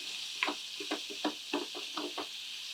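Tomato masala frying in a pan for a paneer gravy, with a steady hissing sizzle and a series of soft stirring scrapes and clinks spread evenly through it, close and moderately quiet with no talking.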